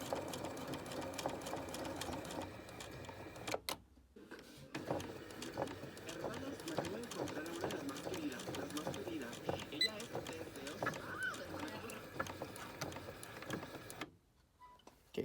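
A sewing machine stitches boning onto a bustier in long steady runs of rapid, close mechanical chatter, stopping briefly partway through and again near the end, while a person talks over it.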